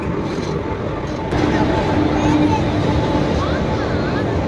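A Chennai to Tirupati passenger train pulls into the station with a steady, building rumble that grows louder partway through, while people's voices and platform chatter carry on over it.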